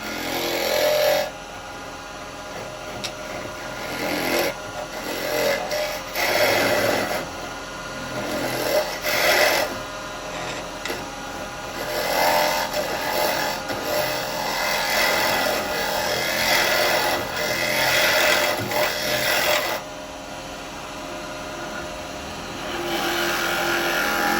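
A carbide chisel cuts into a small firewood bowl spinning on a wood lathe, giving a continuous scraping, rasping whir that rises and drops as the tool engages and lifts off, loud and close.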